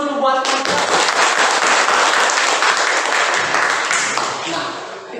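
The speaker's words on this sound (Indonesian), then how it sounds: "Untuk itu kita kasih aplaus dulu buat kelompok." Classroom applause for a student group after their presentation, a dense burst of clapping from many hands that starts after a brief voice and holds loud and steady for about five seconds before thinning slightly.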